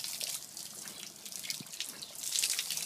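Hose water streaming steadily over a horse's coat, a close, continuous splashing hiss with no voices.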